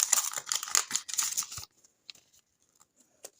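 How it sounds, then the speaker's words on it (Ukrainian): A crinkly paper surprise packet rustles and tears for a second and a half, then a few faint scattered crackles follow in near silence. "Давайте відкривати наш пакетик."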